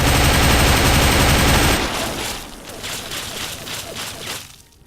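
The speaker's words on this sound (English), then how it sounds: "I'm shooting the fence, aren't I? I'm totally shooting the fence." Gunfire in the video game Fallout 3: loud, dense bursts of rapid automatic shots with booming impacts, fading into a steady stream of repeated shots that tapers off at the end.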